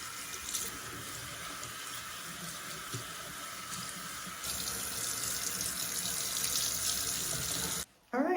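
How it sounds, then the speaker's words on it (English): Tap water runs steadily from a faucet while shampoo is rinsed out of hair during a wash-day routine for a protective style, a continuous close hiss that swells slightly and cuts off abruptly near the end. "Let me rinse this out and I'll be right back."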